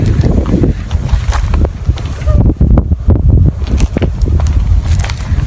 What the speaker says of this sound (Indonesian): Wah, anginnya.